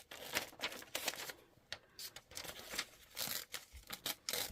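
Scissors snip out a picture on a table in a run of short, quiet, crisp cuts and paper rustles with brief pauses between them, close up, and someone briefly says a few words.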